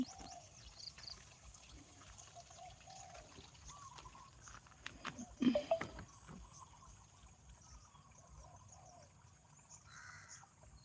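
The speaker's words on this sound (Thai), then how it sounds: "มีเจ้ากาส่งเสียงร้อง" A crow caws near the middle of a calm morning nature scene, a short cluster of harsh calls rising above a faint, steady background of insects and distant ambience.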